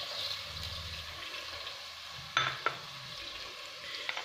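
Onions and tomatoes fry in a pan for a chicken tagine. A soft, steady sizzle is heard up close, with a couple of sharp scrapes and knocks as the mixture is stirred.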